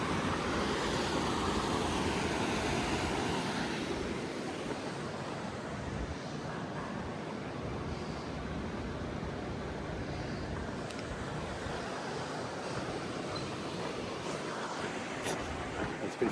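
A river rushes steadily far below a mountain trail in burnt hills along the Pacific Crest Trail near Goat Rocks, a continuous broadband wash of flowing water with no talk.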